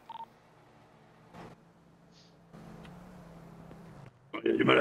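Phone dialing tones in a French roleplay video game, a short burst of beeps at the start, then quiet background with brief noises and louder clustered tones near the end.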